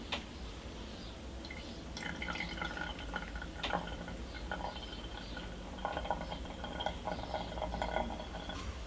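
Water from a Hario V60 Buono kettle pours in a gentle, controlled stream into a Chemex pour-over brewer, a soft steady trickle with faint glassy drips and clinks over about nine seconds, fairly quiet and close.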